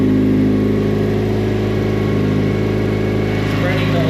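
A 1.6L turbo Miata engine runs at a steady idle with exhaust leaking from the V-band at a cracked turbo manifold, producing a constant close drone and hum with no change in pitch.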